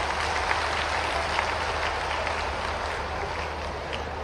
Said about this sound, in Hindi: तालियां आपकी 1 2 3